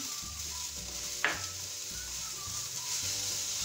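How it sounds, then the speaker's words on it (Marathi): Carrot halwa mixture with added sugar sautéing in a pan, a steady broad sizzle with soft stirring scrapes and one sharp clack of the spoon against the pan, close and continuous, no voices. "आता थोडं परतून घेऊ"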